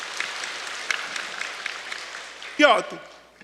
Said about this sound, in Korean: 우리 하나님께 감사의 박수 드리도록 하겠습니다